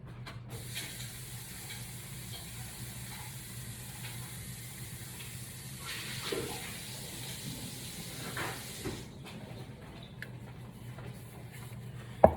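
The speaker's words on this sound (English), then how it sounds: "Let me give these a little quick rinse" Vegetables are rinsed under a running kitchen tap, making a steady soft water hiss for several seconds. The flow then stops, followed by faint handling clatter.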